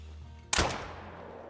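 A single hunting-rifle shot rings out in the hunting game Call of the Wild during a buck shot fox hunt in Scotland, a sharp loud crack that decays quickly into quiet background ambience.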